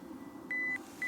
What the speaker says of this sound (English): Let's put the timer on, 10-second timer.